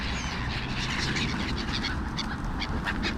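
Birds calling outside a Mercedes dealer, a run of duck-like quacks and honks repeating over steady background noise at moderate distance, with no talk.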